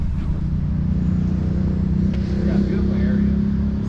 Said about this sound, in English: Noisy motorcycles right there.